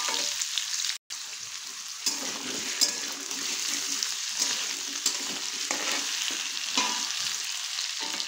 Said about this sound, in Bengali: আলু আর গাজরটা কিছুক্ষণ ভেজে নিয়েছি